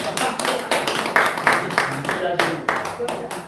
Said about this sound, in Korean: 박수 한번 쳐줘, 박수